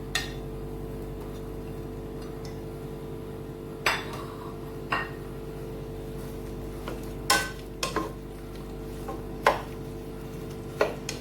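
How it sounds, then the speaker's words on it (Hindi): Onions browning in oil in a cooking pot, with scattered metallic clinks and taps of utensils against the pot over a steady low background hum; no sizzle stands out. "ऑयल डाल रहे हैं हम देगची में। अभी हम प्याज ब्राउन करेंगे।"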